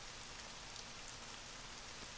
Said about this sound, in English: That rain sounds really loud.